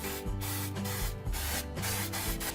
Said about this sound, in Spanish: Voy a estar utilizando aceite en spray.